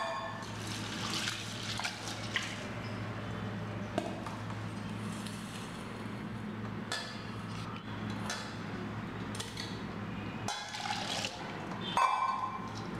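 Soaked lentils and rice are rinsed in water for adai dosa batter, giving continuous soft sloshing and trickling with occasional splashes and clinks of grains against a bowl, close and fairly quiet.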